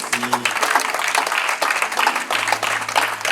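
A wedding crowd claps in dense, continuous applause, while a voice and other chatter mix in underneath.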